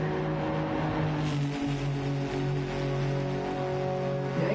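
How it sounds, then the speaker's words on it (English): A race car circulates on the Nürburgring in a racing game during a 24-hour endurance event, a steady droning engine tone with sustained harmonics and constant road noise, no talk. "Can we have a car on track?"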